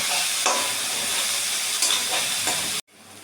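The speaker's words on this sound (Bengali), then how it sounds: "পেঁয়াজ আমার ভাজা হয়ে গেছে আর এর মধ্যে দিয়ে দিয়েছি গ্রেট করে রাখা পেঁয়াজটা, রসুনটা আর কাঁচা লঙ্কা কুচি। এবার একটু নাড়িয়ে নেব।" Fried onion, grated onion, garlic and chopped green chilli are stirred in a hot pan, giving a loud continuous sizzle with a few scraping strokes, then a sudden drop to near silence at the end.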